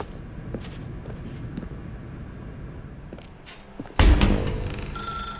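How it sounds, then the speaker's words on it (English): A telephone rings in The Stanley Parable: Ultra Deluxe, a bright electronic ring that bursts in suddenly and loudly after several seconds of quiet footsteps and faint room tone, continuing to the end. "The phone. Now pick up the phone."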